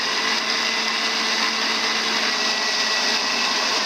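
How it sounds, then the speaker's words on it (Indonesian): A blender grinds shallots, garlic and candlenuts into a paste, a loud, steady whirring roar that holds unbroken throughout with no talk over it. "untuk bumbunya ada bawang merah, bawang putih, kemiri, aku mau blender halus"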